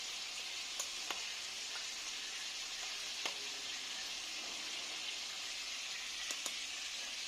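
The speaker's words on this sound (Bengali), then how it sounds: "এখানে সামুদ্রিক মাছ ভেজে নিচ্ছি" Sea fish sizzling as it fries in a pan, a soft, steady hiss with occasional faint pops and ticks, quiet and continuous with no talking.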